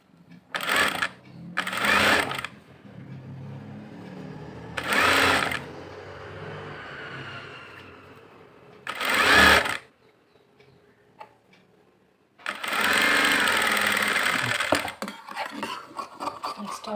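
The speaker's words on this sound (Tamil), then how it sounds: "கட் பண்ணிவிட்டு இப்போ மேல் படிமான தையல் போடுறோம்" An electric sewing machine stitching a blouse in short bursts of rapid mechanical chatter, with pauses between runs and a longer final run, close and fairly loud.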